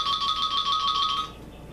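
A phone rings in a painting studio with a steady electronic warble for just over a second, clear and fairly close, then stops. No voices are heard.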